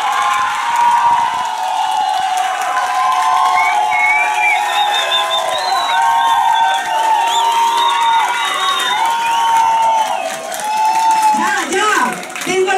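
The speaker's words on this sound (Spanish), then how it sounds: "El aplauso, por favor, para la señorita Valentina Manzón." A studio audience on a Chilean drag TV show cheers, shouts and whoops with scattered clapping. The crowd noise is loud and continuous, with many overlapping voices yelling throughout.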